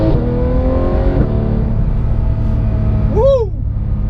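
Porsche 911 GT3 of the 991.2 generation pulls hard under acceleration, a loud steady engine drone with a rising whine that fades near the end, recorded close from inside the car.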